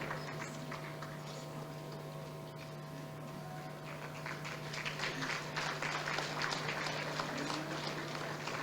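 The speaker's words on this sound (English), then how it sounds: "Keep the round of applause going for Rear Admiral Antoinette Weems" Applause from a gala audience rises to a dense, steady patter of many hands clapping, heard from a distance with a constant low hum underneath.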